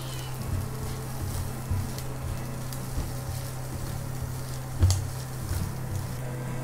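A steady sizzle from pasta and a fried egg being mixed and fried together in a pan, a constant low hum beneath, with faint occasional stirring knocks.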